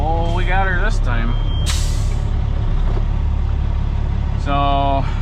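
A truck idles loudly while backing up a trailer, its air brakes releasing in a sharp hiss midway, with a voice talking over the engine at the start and end.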